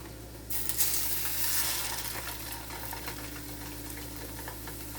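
Pork hits a hot pan and bursts into loud, steady sizzling that swells over the first second or two, then settles into a constant frying hiss over a low hum, with no talking.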